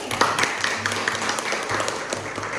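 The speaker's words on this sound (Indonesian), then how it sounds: "Tepuk tangan dulu." A classroom group claps together after a lesson activity, a quick scattered patter of hands at moderate volume with some faint voices underneath.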